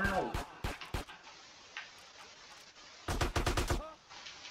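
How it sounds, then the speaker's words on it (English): Gunfire in GTA San Andreas Definitive Edition comes as sharp, loud single shots early on, then a rapid burst of five or six cracks in quick succession, with quieter game sounds between the volleys. "Where the hell am I getting shot from now?"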